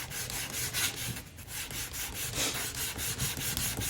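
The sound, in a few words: sanding a loaded strop with 220 grit sandpaper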